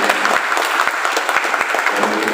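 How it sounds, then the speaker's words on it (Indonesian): Dense, steady clapping from a sizable crowd at a regional legislature (DPRD) session in West Java, Indonesia, loud and continuous throughout with many overlapping hand claps. "tepuk tangan untuk Komisi 1"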